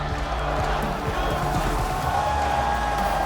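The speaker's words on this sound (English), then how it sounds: "The arena erupting into chants for Contractz as he comes back" Arena crowd at the LCS Summer Playoffs championship final, C9 versus NRG, roaring and chanting in a rhythmic, sustained swell that fills the hall, loud and continuous throughout.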